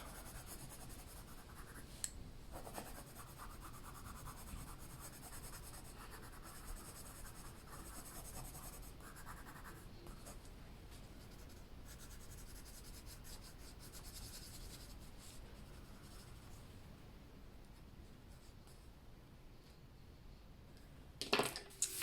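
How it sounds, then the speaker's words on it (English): Colored pencil burnishing over paper in an adult coloring book, a close, steady scratchy rubbing that continues throughout with small taps and clicks near the end. "we're going to go ahead and burnish the rest of this"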